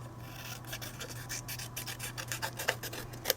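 Paper is trimmed on a Stampin' Up! Santa and Mrs. Claus gift box craft piece, producing a quiet, close series of short scratchy cutting and rubbing strokes in a steady rhythm.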